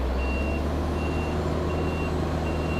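A truck backs up to a dump pile with its reversing alarm beeping at a steady, evenly spaced rhythm over a loud, constant engine rumble.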